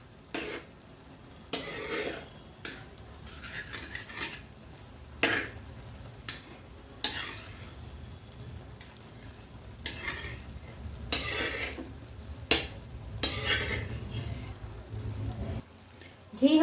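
Homemade ghee melting in a pan for panjeri, a soft low sizzle with sharp clinks and scrapes of a spoon and pan recurring every second or so throughout.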